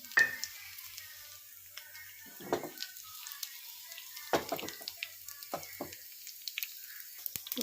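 Soft crackling sizzle of spice tempering in hot oil with curry leaves and garlic, with scattered pops and clinks from stirring, fairly quiet and close, no talking.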